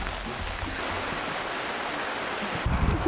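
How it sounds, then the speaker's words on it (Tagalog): Steady, dense rain hisses continuously, with heavier splashing and some low rumbling toward the end. "Ang lakas ng ulan."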